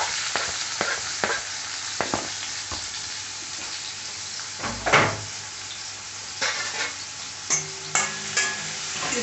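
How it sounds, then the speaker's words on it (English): Green chilies fry in hot oil with a steady crackling sizzle, broken by a few sharper pops and spatters and a clink of utensils near the end. "Once you find the green chilies are getting fried, you add the onions."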